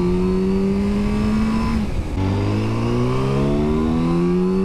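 A Yamaha R7 OW-02 sport motorcycle engine screams steadily at high revs, drops briefly as a gear changes, then climbs again past 8,000 rpm with a rising, sustained whine; loud and close.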